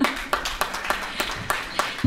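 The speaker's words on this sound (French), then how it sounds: "Chères marcheuses, est-ce qu'il y en a? Applaudissez-vous" Women walkers at a marathon finish event clap in a loose, rhythmic pattern, distinct claps spaced roughly every quarter second in a fairly small group, close by and moderately loud.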